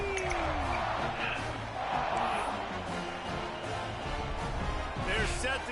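Crowd in the stands at a football game roars and cheers continuously throughout, a dense wash of noise with a commentator's voice running over it.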